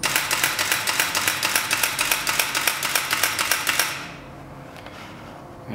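A Canon 5D Mark II shooting in burst mode, producing a loud, rapid, even train of about twenty mechanical shutter clacks that stops abruptly, leaving near silence.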